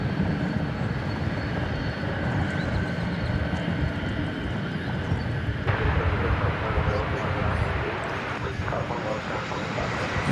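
An MD-11 jet's engines rumble steadily at DFW Airport as a voice talks over the noise, with a shift in the sound partway through.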